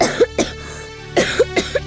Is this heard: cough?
yes